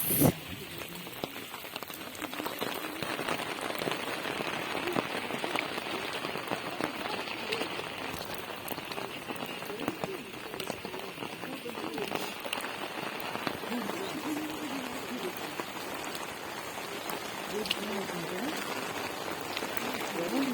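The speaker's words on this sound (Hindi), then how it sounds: "यहाँ बहुत तेज़ बारिश शुरू हो चुकी है।" Steady heavy rain hisses and patters continuously on surfaces, dense and close throughout, with no voices standing out.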